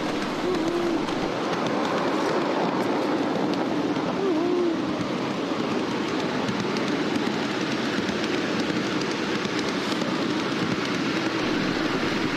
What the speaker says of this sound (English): With a good load, it makes the locos work hard.